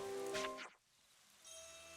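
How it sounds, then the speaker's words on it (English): Rain starts falling in the video game Xenoblade Chronicles 3: a brief rushing, pattering wash that swells and then fades away, leaving quiet ambience with soft tones. "And there shall be rain."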